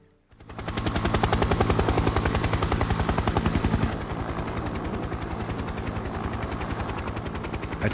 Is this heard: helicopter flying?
yes